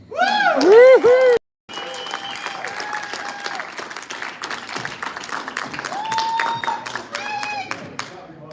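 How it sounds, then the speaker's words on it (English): Audience applause for a keynote speaker, the plumber Roger Wakefield, at a live event: sustained clapping from the crowd with whoops and cheers over it, staying loud throughout after a brief gap near the start. "Give him another round of applause"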